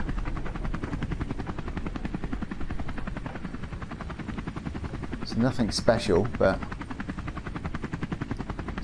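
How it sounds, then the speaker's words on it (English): Helicopter in the video game Terminal, a steady rapid rotor thump running throughout while someone talks briefly over it. "There's a chopper up here."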